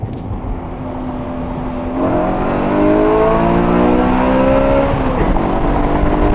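A BMW E92 M3 engine revs up hard in second gear, pitch climbing steadily after a brief shift, loud and close with a rising whine.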